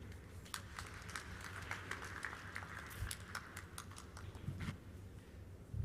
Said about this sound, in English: Those hand claps, ladies and gentlemen,